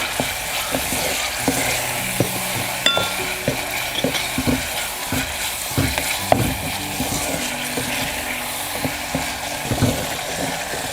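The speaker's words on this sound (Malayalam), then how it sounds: "ഇനി നന്നായിട്ട് നമുക്കൊന്ന് വഴറ്റിയെടുക്കാം" Tomato, shallots and green chilli sauté for a Kerala-style curry made without fish. A steady sizzle runs throughout, while a spoon scrapes and taps the pan in repeated close strokes, and no one talks.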